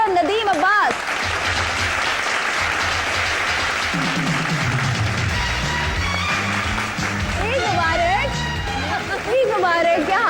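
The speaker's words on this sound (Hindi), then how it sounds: "आप सबकी भरपूर तालियों में फिजा अली और नदीम अब्बास" Loud, sustained applause from a large television studio audience fills the whole stretch, with a voice speaking Urdu or Hindi over the start and end.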